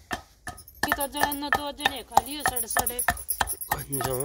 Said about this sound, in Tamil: இந்த மாதிரி ஒரு கட்டையை வச்சு இடிக்கிறாங்க